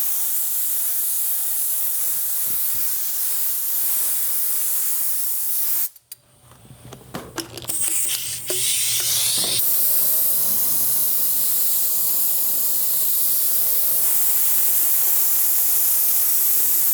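An aerosol can sprays adhesive to glue down carpet inside a truck cab, a loud continuous hiss broken by a short pause with rustling before the steady spray resumes and runs to the end.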